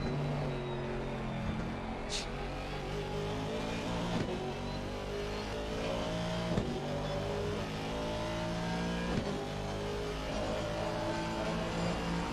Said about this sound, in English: It's one of the nicest sounding cars out there as well, I think.